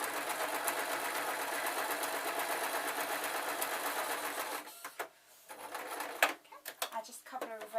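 Sewing machine stitching fur slippers, a fast, even mechanical chatter that runs steadily for several seconds and then stops, giving way to handling noises and quiet clicks, with a voice talking.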